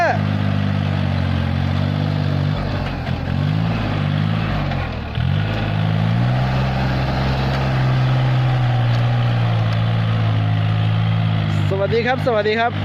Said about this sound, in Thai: คลิปนี้จะพามาชมรถไถคูโบต้านะฮะ L4018